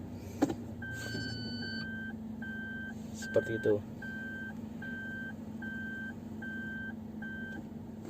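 Automatic car shifted from park into reverse, then a steady series of about nine evenly spaced reversing beeps over a low idling engine, with a short click of the shifter and a brief spoken remark.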